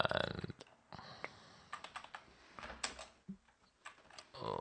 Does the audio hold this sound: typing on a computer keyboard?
yes